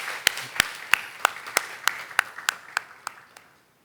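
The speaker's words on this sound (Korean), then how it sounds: "우리 주님께 감사와 영광의 박수를 드리겠습니다" Scattered, slow hand claps from a church congregation, about a dozen distinct sharp slaps in a loose steady rhythm that thins out and stops after a few seconds.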